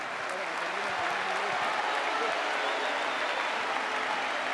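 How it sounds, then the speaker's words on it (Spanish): A crowd at a farewell tribute for footballer Maximiliano Rubén Rodríguez claps loudly and steadily, a thick, sustained wall of applause with crowd noise and some voices mixed in. "Fuerte el aplauso para el homenajeado, para el señor Maximiliano Rubén Rodríguez"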